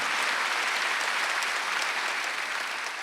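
A church congregation claps together at a Wednesday worship service, a dense, steady wash of applause that fills the whole stretch without pause, loud and close.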